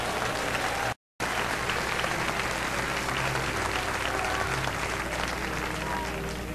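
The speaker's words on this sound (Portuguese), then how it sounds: "Aplausos para Deus." A church congregation applauds during a sermon with sustained, dense clapping and crowd noise that fills the hall, broken by a brief gap near the start.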